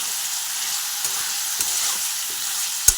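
Chicken necks frying in a pan, giving a loud, steady, close sizzle with occasional soft pops and one sharper crackle near the end, no voices.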